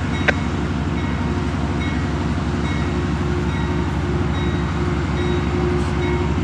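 Amtrak train 64 departs Niagara Falls, New York, with a steady, loud, low rumbling drone of the locomotive and cars rolling close by, continuous throughout with faint higher squeals.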